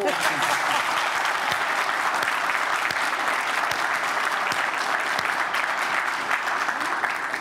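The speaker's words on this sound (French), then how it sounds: "je voudrais qu'on fasse vraiment des ovations" A large audience gives a sustained ovation, dense steady applause holding at a constant loud level for the whole stretch with no gaps.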